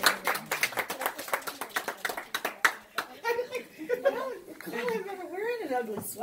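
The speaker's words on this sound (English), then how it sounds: "And this is applause for you." Family applause for Nannette's graduation, a small group clapping in quick close bursts for about three seconds, then fading into laughter and chatter as people talk.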